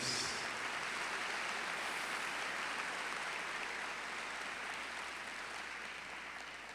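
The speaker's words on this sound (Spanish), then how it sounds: "Enviémosles un aplauso a ellos." Applause for the pastors from a church congregation, a steady broadband wash of clapping that holds evenly throughout and fades slightly at the end, with no voices over it.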